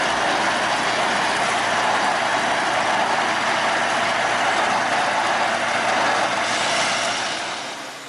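Small German-built Schoma diesel locomotive at the Kedawung sugar mill, dating from the 1950s and used for hauling cane wagons, a steady broad engine rumble and rolling noise close by, fading slightly at the end.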